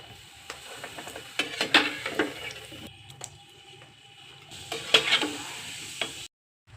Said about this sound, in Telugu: ఇప్పుడు ఇందులో నంచుకోవడానికి అప్పడాలు వేయిస్తున్నాను